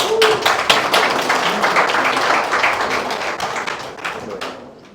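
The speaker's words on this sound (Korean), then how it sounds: "박수 한번 보내주세요." Audience applause at a basic-income lecture during a regional organization launch event, a dense steady wash of many hands clapping that tapers off toward the end.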